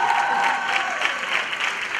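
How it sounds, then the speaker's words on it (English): An indoor audience applauds a winner in a presentation or lecture, a dense, steady burst of clapping that fills the room at even loudness from start to finish. "A round of applause for the girl who said B."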